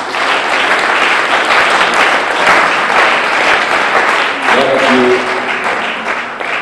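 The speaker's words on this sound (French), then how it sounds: "acclamez-vous vous-même" A church congregation applauding themselves at a service, dense sustained clapping from a large crowd filling the room, with a few voices and a short sung tone breaking through near the end.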